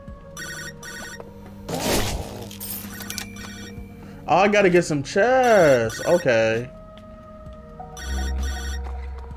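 A phone rings repeatedly in the video game High on Life, a tonal electronic ring in regular bursts at moderate level, with a player talking loudly over part of it.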